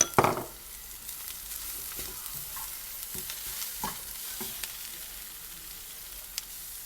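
Onions and cabbage fry in a pan while being stirred, with a soft steady sizzle and scattered scraping stir sounds, a louder clatter at the start, and no talking.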